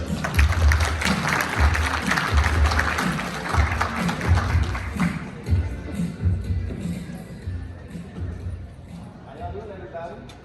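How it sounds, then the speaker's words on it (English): Audience applause fills the first half, dense and fairly loud, then fades out as a voice carries on over low background noise. "Round of applause for Troy."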